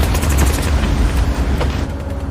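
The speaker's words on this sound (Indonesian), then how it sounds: "Dalam pelariannya, Chris hampir tertinggal karena terkena tembakan." Loud, dense gunfire from the war film American Sniper, a continuous roar of shots and booming blasts with no clear gaps, heavy and close throughout this short burst.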